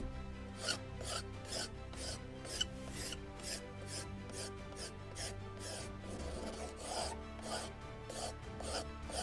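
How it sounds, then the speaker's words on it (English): A scalpel scraping along the wooden mast of a model kit of the 1776 gunboat Philadelphia, a rhythmic series of close, dry rasping strokes in steady repeated passes, with no talk. "Just along with the mast I can look at this one and scrape it."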